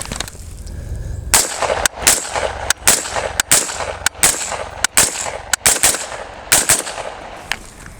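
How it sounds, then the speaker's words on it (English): Ten shots fired from an 11.5 inch rifle fitted with a Surefire Warcomp muzzle brake, loud sharp cracks spaced roughly every half second to second in an uneven string, each with a brief ringing tail. "We're gonna shoot 10 rounds"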